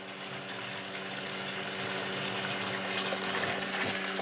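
Electric fuel pump from a Chevy truck pushing gasoline through a tube into a gas can, a steady whirring hum layered with a continuous liquid gush that stays even and close throughout, no talking.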